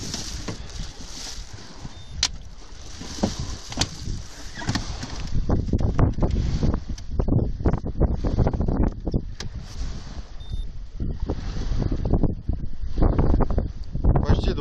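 Strong wind buffeting the microphone during feeder fishing, in heavy low rumbles and gusts, growing louder after the first few seconds, with faint outdoor background underneath.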